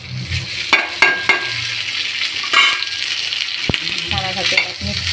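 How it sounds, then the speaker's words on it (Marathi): Leftover tempered rice is fried in a little oil in a pan, a close sizzle broken by repeated scraping stirs of a spoon against the pan, with no talk. "आता आपण थोडंसं तेल टाकून आणि दुपारचं थोडंसं फोडणीचा भात आहे तो आपण गरम करून घेऊ"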